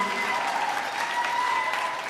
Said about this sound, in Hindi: ताली एक बार जोरदार बजा दीजिए तो मैं शुरू हो जाऊं।